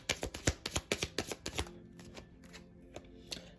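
Rapid rhythmic riffling of a tarot deck being shuffled, close and crisp, then slowing into a few scattered taps and soft card slaps.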